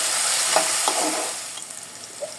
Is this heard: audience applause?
no